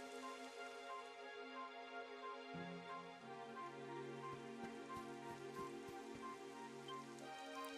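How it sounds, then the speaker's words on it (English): Steady rain falls across an outdoor scene in the video game Dragon Quest XI, a continuous even patter with no talk, set against layered sustained musical tones from the game's soundtrack. "It would have to go and start raining, wouldn't it?"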